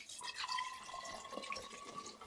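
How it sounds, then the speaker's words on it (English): Cold water running from a tap into a container for cooling homemade sweet potato ale, a faint, thin trickle with light splashes, heard alone at a distance. "So let's get some cold water in there."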